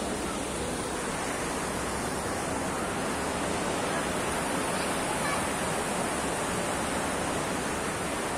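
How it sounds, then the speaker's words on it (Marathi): High-tide sea waves wash in at Alibag beach as a steady, broadband roar of surf, unbroken and moderately loud from start to finish, with no voices over it. "फक्त लाटांचा भरतीचा तुम्हाला आवाज येईल."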